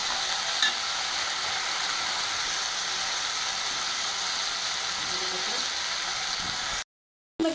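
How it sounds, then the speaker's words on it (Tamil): Ginger garlic paste sautéing in a pan for pasta, a steady close sizzle with scraping stirring strokes throughout, cut by a brief moment of silence near the end. "இஞ்சி பூண்டு பேஸ்ட் அதையும் போட்டுக்கலாம். அதை போட்டு வதக்கிக்கலாம்."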